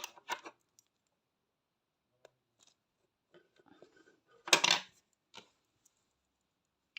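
Scissors cut through crochet yarn, heard as a few sharp, close snips, with a louder cluster of cuts near the middle among quiet handling sounds in an otherwise silent room.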